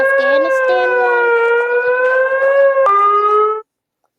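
Afghanistan Emergency Alert System alarm: a loud, steady multi-tone siren wail with a slight pitch drop and a jump near the end, sounding alone for several seconds before cutting off into silence.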